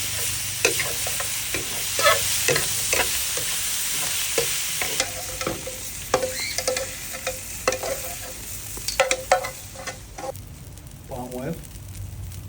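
Scallions and garlic sizzling in a hot pan with a steady hiss, broken by frequent scraping stirs and clinks of a utensil, with no talking over it.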